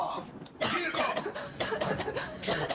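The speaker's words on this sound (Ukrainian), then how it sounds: "Аня, почни кашляти кровлю." A woman coughs repeatedly in rough, close bursts in the video game Metro Exodus, mixed with talk and game noise running underneath.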